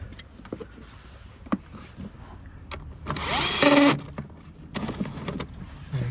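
A power tool, likely a drill or impact driver, runs in one loud burst of about a second as it tightens a seat bolt inside a Vauxhall Astra K. Small clicks and handling clatter come before and after.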